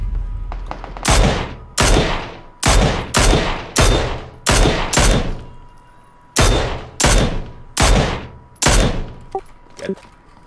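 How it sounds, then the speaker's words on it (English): Gunshots in PUBG ring out as a series of about a dozen loud, sharp reports, fired in uneven bursts with brief gaps and a decaying tail after each shot. No one speaks. "So he's taking a shot at me."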